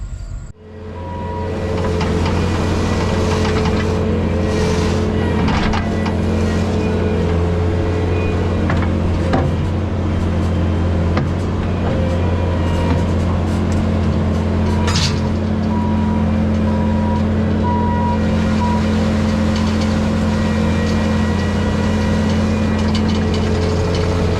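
A Bobcat T650 compact loader driving a Brushcat rotary cutter through tall field grass, a loud, steady engine drone and hydraulic whine that holds constant throughout, with faint knocks and clatter from the cutting.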